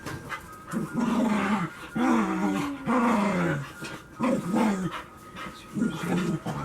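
Dogs snarl and growl in rough, overlapping bursts, close by, with yelps and whines suggesting a scuffle between several animals.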